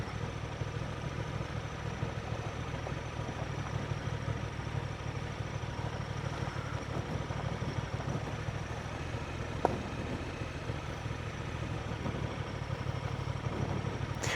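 An off-road vehicle's engine runs steadily at low load, a continuous low rumble with a faint mid-range whine, close and unbroken for the whole stretch with one brief clunk partway through.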